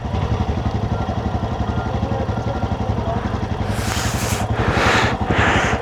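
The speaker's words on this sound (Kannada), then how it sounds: "ಇಲ್ಲಿ ನೋಡಿ, ಚಳಿಗೆ ಇಂಜಿನ್ ಬಿಡ್ತಾವ್ರು ಹುಡುಗರು" Motorcycle engines idle in freezing cold at Changla Pass in Ladakh, a loud, steady low rumble with rapid even pulsing, and a brief rise in revs near the end.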